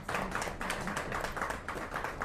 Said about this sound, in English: She deserves all the applause.